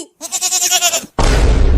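A goat gives one loud, wavering bleat close by, then it cuts off into a sudden loud burst of rough, noisy sound.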